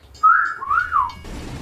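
A short whistled intro tone, a clear rising and falling melodic whistle heard alone and close, ending abruptly after about a second.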